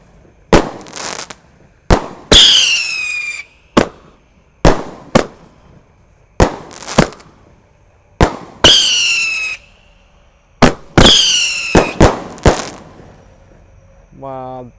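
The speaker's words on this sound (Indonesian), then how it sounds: "Bangunin sahur pakai Roman candle guys." Roman candle fireworks set off before dawn in a village, each shot a sharp, loud bang followed by crackling and whistling bursts, about a dozen spaced explosions with brief pauses between them.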